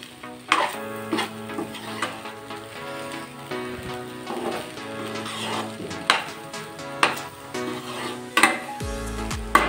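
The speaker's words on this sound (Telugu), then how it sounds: "ఇప్పుడు మంచిగా ఇది కానీ కొంచెం మంచిగా కలుపుకోవాలన్నమాట మొత్తం." Tomato rice being stirred in a pan, with irregular scraping and soft clattering strokes repeating over a steady faint sizzle, close and alone.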